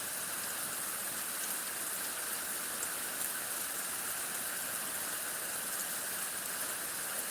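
Heavy monsoon rain falls steadily over farmland, a constant broad hiss that holds even and moderately loud from start to finish, with no voices heard.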